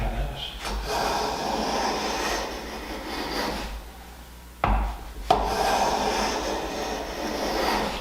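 A tuned hand plane shaves a paper-thin, full-width strip off a wooden board edge in long, breathy rasping strokes, close up, with a brief pause between passes.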